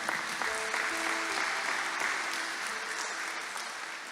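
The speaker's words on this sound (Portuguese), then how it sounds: "Você pode aplaudir ao Senhor agora." A church congregation applauding during a Brazilian worship service: dense, steady clapping from many hands filling the room, with a faint voice underneath.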